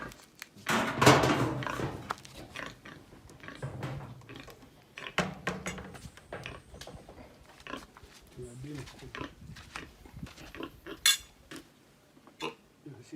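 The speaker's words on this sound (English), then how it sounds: "Make too much noise now, pig wake up." A pig on a Jamaican country farm grunts and snorts in short bursts amid clinking cutlery and dishes, with people talking nearby throughout.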